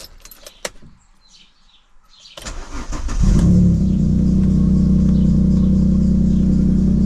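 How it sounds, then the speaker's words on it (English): Alfa Romeo 166 V6 engine cranking after a year sitting with a broken gearbox, a few clicks first, then the starter catching and the engine firing into a loud, steady, close idle that holds to the end. "Now we need to start the car."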